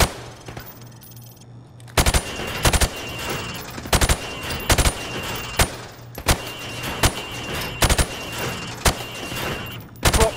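Rifle shots crack out in the Call of Duty: Modern Warfare Remastered training range as pop-up targets are hit, sharp loud single shots at an irregular pace, roughly one to two per second, after a quiet start.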